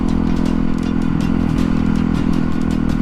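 A motorcycle engine holds a steady, even drone at cruising speed around 50 mph, loud and continuous, with a dense mechanical throb and faint clatter throughout and no talk.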